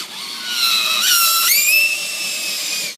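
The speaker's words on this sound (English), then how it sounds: "Alright, I get started with the drill, but I don't finish with the drill." A power drill fitted with a 1/2 inch socket adapter drives a bolt while a ceiling TV mount is installed, giving a steady high whine that steps up in pitch twice before cutting off sharply after about three seconds.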